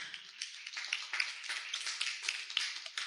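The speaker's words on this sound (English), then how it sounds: "Can we get a big round of applause for Johan here?" An audience applauds a speaker at a discussion event on climate change, a short burst of scattered, close hand claps with no talking over it.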